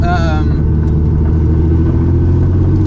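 A Porsche 930 Turbo RSR drives on the road, its engine a loud, steady low rumble from inside the car. A voice is heard briefly over it at the start.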